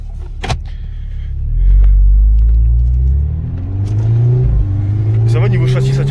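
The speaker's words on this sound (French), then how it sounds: "Bon, là, on est parti pour faire l'essai routier." Tuned Volkswagen Golf 6 R on a road test drive, engine rumbling from inside the cabin as it revs and pulls through the gears, with a deep low drone rising and falling while people talk over it.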